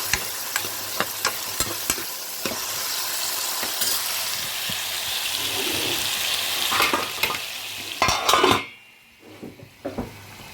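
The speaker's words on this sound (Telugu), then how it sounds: "మధ్యలో కలుపుతూ ఉండండి, లేకపోతే కింద అడగంటుపోతుంది." Curry simmering in a pan is stirred with a utensil, bringing steady sizzling and frying hiss with repeated scrapes and knocks against the pan, close and loud, before the sound drops away near the end.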